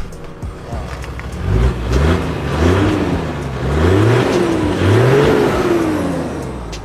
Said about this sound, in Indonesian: Suaranya asik John, ditambah dengan suara flutter turbonya.